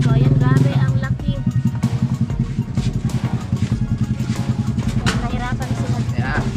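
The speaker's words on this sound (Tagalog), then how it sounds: "So dito na kami ni Bibi sasakay sa tricycle kasi mainit na sa motor" A motor tricycle's engine runs steadily with a pulsing low rumble and rattle, loud and close throughout, as people talk over it.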